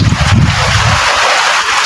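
Strong wind roaring through coconut palm fronds, a loud continuous rushing hiss with heavy low buffeting against the microphone that eases after the first second.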